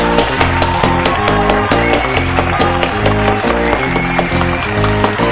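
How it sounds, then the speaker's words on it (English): Studio audience applause for a performer on a comedy variety show, a steady dense wash of clapping that runs throughout over a loud rhythmic music bed. "big round of applause for Miss Melissa Chapman"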